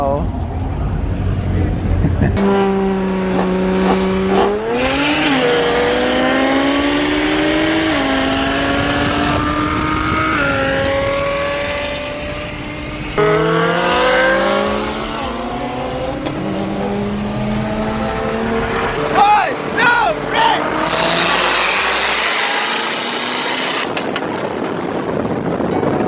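A BMW E92 M3 races another car, its engine revving loud and close, repeatedly climbing in pitch through the gears and dropping between shifts.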